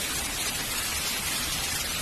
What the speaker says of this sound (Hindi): खूब तेज बारिश भी होती है